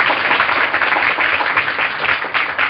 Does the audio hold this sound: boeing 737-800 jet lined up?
no